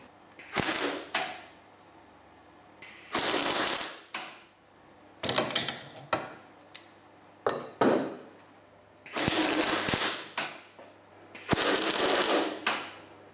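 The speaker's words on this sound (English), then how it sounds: "I need to make sure I weld the bolt and not the actual mount" MIG welding a stuck bolt on a Toyota MR2 engine mount, heard as several bursts of crackling, sputtering arc noise lasting one to two seconds each, separated by short pauses, close and moderately loud.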